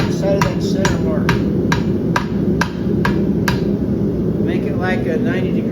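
A farrier hammers a homemade horseshoe, about nine sharp evenly spaced metal strikes ringing out over a steady loud hum, then the blows stop.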